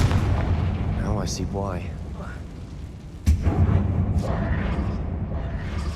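Confringo blasting spell explosions in the game Hogwarts Legacy, set in a closed mine: a deep booming rumble with a sharp blast partway through, game effects swirling above, and a short spoken line over it.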